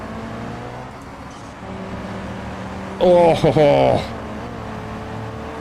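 A simulated car engine in the BeamNG driving game hums steadily, then surges into a brief, loud throttle burst with a sharply rising whine before settling back, while a voice talks over it.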